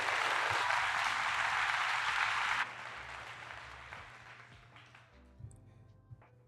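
A round of applause from an audience at a talk, a dense wash of clapping that cuts off sharply partway through and then fades into a quiet room with a few faint stray noises.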